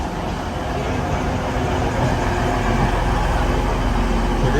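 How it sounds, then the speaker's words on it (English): Train pulling into a station platform, a dense steady rumble of wheels and engine filling the whole stretch, loud and near, with low mechanical drone throughout. "Right, this is our next train."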